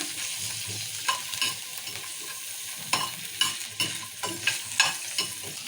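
Onions fry in a pan for an egg curry, a steady quiet sizzle punctuated by repeated spatula scrapes and knocks in an uneven rhythm.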